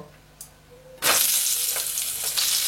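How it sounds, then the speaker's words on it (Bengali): Potato pieces dropped into hot oil in a pan burst into a sudden loud sizzle after a quiet second, then keep frying with a steady crackling hiss, close by. "এবার আগে আলুর টুকরোগুলো ভেজে নেব।"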